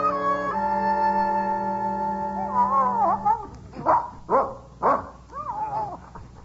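A dog in an old-time radio drama whines and howls in long drawn tones, then lets out several sharp, distinct barks in quick succession, fairly close and prominent with no talk over it.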